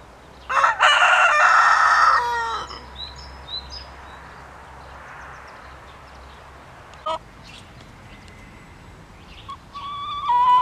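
A backyard rooster crows loudly and close among hens, one long full call near the start, then quieter clucks and scattered fowl noises before another burst of crowing at the end.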